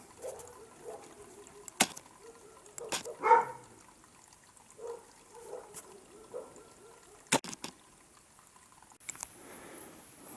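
Dogs bark intermittently at night somewhere below a mountain trail near a village, in short scattered bursts that sound distant and fairly faint against a quiet background.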